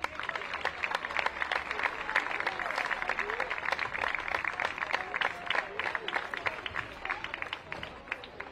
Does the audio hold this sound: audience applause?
yes